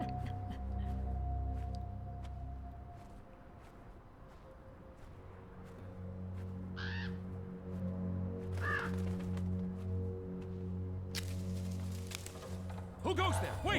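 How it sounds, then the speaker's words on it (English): A crow caws a few times in the video game Draugen, short harsh calls scattered over a low ambient drone of creaking trees and wind, with a voice talking across much of the passage. "I can hear a crow."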